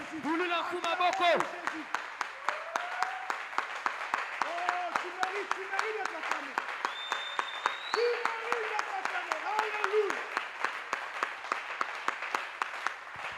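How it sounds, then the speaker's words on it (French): Worshippers in a church clap in a steady, even rhythm for Jesus, the sharp beats running throughout while a voice speaks or sings loudly over them. "est-ce qu'on peut acclamer pour Jésus?"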